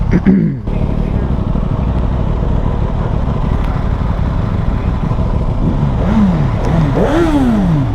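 A 2025 Aprilia Tuono V4 Factory naked bike's engine roars loud and close, holding a steady drone before several rising revs near the end, with some voices over the engine.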